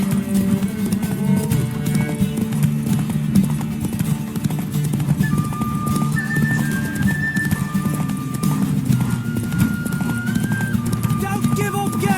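Steady galloping hooves and an occasional neigh from The Witcher 3: Wild Hunt run continuously over a layer of background music and voices, loud and close throughout.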